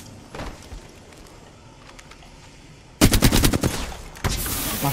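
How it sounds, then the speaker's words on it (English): Automatic gunfire in the battle royale shooter Apex Legends, faint distant shots at first, then a loud close burst of rapid rounds that breaks off and gives way to a steadier noisy wash. "I'm taking fire."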